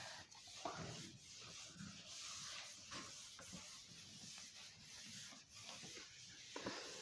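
Writing being rubbed off a classroom board during a seventh-grade maths lesson, a continuous faint scraping and rubbing hiss with repeated strokes and no speech.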